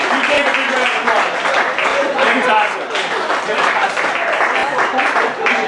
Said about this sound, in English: You gave a big round of applause.